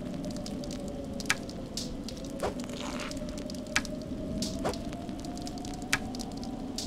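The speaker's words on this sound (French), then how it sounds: "Entre le feu qui crépite et le mec qui mastique sa bouffe, là on entend croquer dans la chair le crunch." Crackling fire and meat cooking in the video game Arx Fatalis: a steady frying sizzle with sharp, scattered pops and crackles at irregular intervals, moderately close and with no voices.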